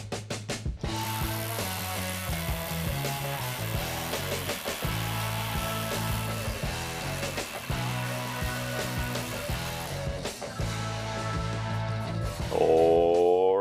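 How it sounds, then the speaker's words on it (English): An SDS hammer drill bores a 12 by 80 mm hole into 32 MPa concrete, a loud continuous mechanical rattle and grinding with a dense, steady texture, ending in a rising whine as it winds up. "Drilling into 32 MPa concrete."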